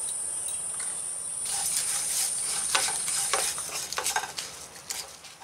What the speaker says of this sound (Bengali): পাঁচ ফোড়ন তেজপাতা শুকনো লঙ্কা আমি ভেজে নিচ্ছি।